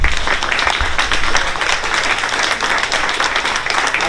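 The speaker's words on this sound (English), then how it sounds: "Brian is really who deserves the biggest round of applause" An audience at a Bloomsday 2021 evening event gives a full, dense round of applause that stays loud and steady throughout, with no voices over it.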